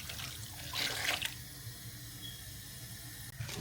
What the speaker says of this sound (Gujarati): સુગરમાં પાણી નાખ્યું.